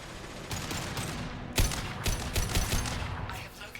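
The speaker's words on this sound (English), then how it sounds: "Firing concussive shot!" A concussive shot power fires in Mass Effect 2, a sharp blast amid a fast volley of crackling gunfire-like bursts that carry on through a continuous noisy battle backdrop.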